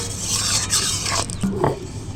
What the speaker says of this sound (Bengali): তাই শিলেতে করছি। দেখো শিলেতে কত সুন্দর গুঁড়ো হয়।